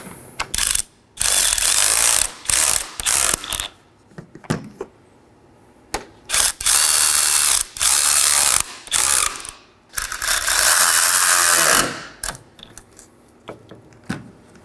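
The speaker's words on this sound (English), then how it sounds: "And I'm going to go ahead and snug these up." Ratchet snugging the 10mm cowl bolts on a 2013-2019 Nissan Sentra during front strut replacement, loud rapid clicking bursts repeated in short runs separated by brief pauses, close and clear with no talking.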